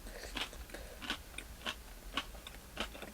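Crisp, crunchy bites into a homemade pizza crust, made during a pizza night in the Australian outback: about six sharp crunches spaced roughly half a second apart, close and fairly quiet, with no talking.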